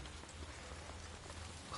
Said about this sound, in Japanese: 行きたくないんだけど雨降ってるから